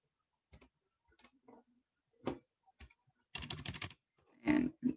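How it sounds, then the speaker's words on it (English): Someone types on a computer keyboard while filling in a simple online survey, producing quiet, scattered keystroke clicks in short bursts with pauses between them and a slightly longer run of taps near the end. "And you're just going to type in your name."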